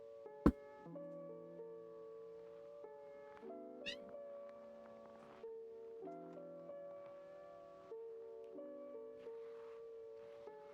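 A cat meows close by several times over a steady humming musical background, with a sharp click near the start and a quick rising chirp partway through.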